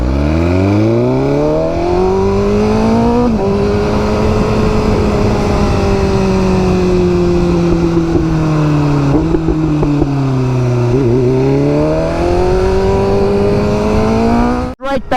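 A Ducati Multistrada V4 motorcycle under way on cold tyres, its engine note rising and falling steadily for about fifteen seconds with shifts in pitch as the rider works the throttle, loud and close, ending in a sharp knock.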